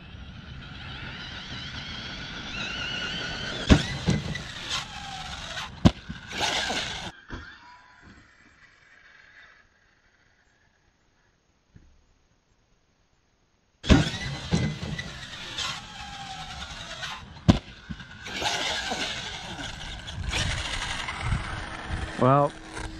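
An Arrma Kraton V3 6s RC car runs in bursts: a whining electric motor rises and falls with sharp knocks, drops into near silence for a few seconds, then roars back up to speed. A person talks occasionally.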